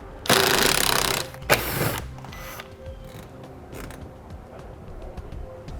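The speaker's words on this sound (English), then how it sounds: "Now I'm going to be using a T15 Torx bit to remove those fasteners." A driver fitted with a T15 Torx bit backs fasteners out of a wheel-well panel on a 2011 Chevrolet Volt, giving two loud bursts of whirring near the start, then quieter clicks and handling noises.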